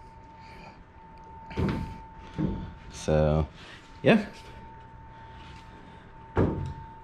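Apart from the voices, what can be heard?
Factory Five 35 Hot Rod truck door opening and closing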